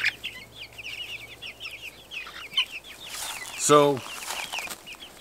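Chickens in a run clucking and chattering nearby in short bursts, with one louder squawk rising near the end over quiet background.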